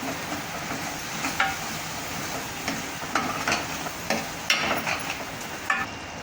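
Vegetables and masala sauté in oil with a low continuous sizzle and repeated light scrapes of a spoon stirring the pan, fairly close and even throughout; no talking.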